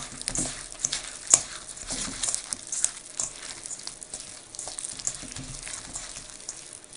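Butter being rubbed into flour by hand for Christmas sablé biscuit dough, giving soft, close crumbly rustling and patter with one brief sharper tap, steady for several seconds with no talking.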